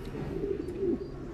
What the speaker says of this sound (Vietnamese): mình thích con chim bồ câu gà Mỹ này nhất